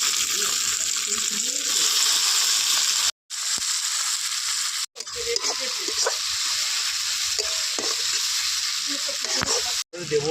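Chopped onion and tomato fry with whole garam masala in hot oil for a chicken curry, crackling in a dense, loud sizzle broken by brief silent cuts, with spoon stirring clatter in the pan.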